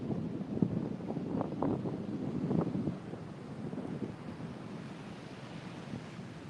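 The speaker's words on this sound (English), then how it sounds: "I just came out to the Pacific Ocean just for a quick little feet" Pacific Ocean surf washes in at a beach while wind buffets the microphone, making a rushing roar that swells for the first few seconds and then settles to a steadier, softer wash.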